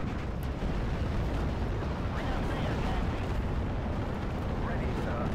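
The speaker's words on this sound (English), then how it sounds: "Some big explosions at least." Heavy explosions rumble through a Steel Division: Normandy battlefield, a continuous dense roar of blasts and crackling impacts at moderate distance, with someone talking over it.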